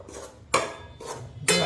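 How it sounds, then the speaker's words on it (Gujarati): Flour being roasted in a pan for lapsi, a sweet Gujarati dish, with a few sharp metal spoon scrapes and clinks against the pan between quieter stretches. "જો અત્યારે લોટ છે, લોટ શેકાય છે"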